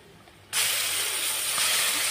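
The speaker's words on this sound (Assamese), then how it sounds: "গুটিখিনি কলডিলৰ পেষ্ট দি দিলোঁ ইয়াতে এতিয়া মই মছলাৰ লগত ভালদৰে ভাজি ল'ম" Banana flower paste hitting hot oil with spices in a pan, a sudden loud sizzle that bursts in after a quiet start and keeps hissing strongly.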